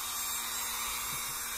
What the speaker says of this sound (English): I'm just drilling a small enough hole that will allow me to stick a needle tip through and push the resin inside.